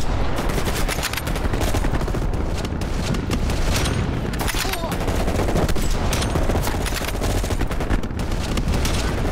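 Dense, continuous gunfire and explosions roar through a Call of Duty Black Ops Cold War battle, loud and unbroken, with sniper rifle shots and a grenade amid the chaos.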